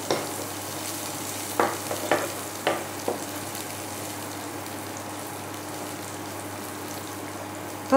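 Moong dal sizzling in a pan for Bengali bottle gourd dal, a quiet steady fry with a handful of spoon clinks and scrapes early on, then a calmer stretch of sizzle.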